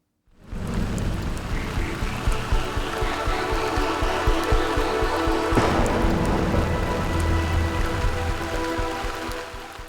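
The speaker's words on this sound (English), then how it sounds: "This weekend brought the first showers of rain to a sweltering Mumbai." Steady rain falls over Mumbai during the first monsoon showers of the season, a dense continuous patter with a faint tonal note midway, loud and close, with no voices.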